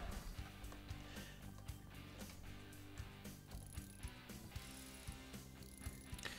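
A wrench ratchets in the video game Construction Machines Simulator 2016, giving quiet, steady clicking pawl ticks in a regular rhythm over a faint mechanical background.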